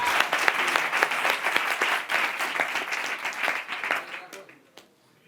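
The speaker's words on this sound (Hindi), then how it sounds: "तो फिर एक बार जोरदार ताली हो जाए." A live audience at a public speaking training session bursts into loud, dense applause, many hands clapping together before the sound thins and fades out near the end.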